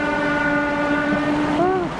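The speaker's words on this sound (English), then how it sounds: "Oh, there comes the old train line again." A train horn sounds on an old rail line near a river weir, a steady multi-tone blast held for about two seconds, bending in pitch at the end, fairly loud over outdoor background noise.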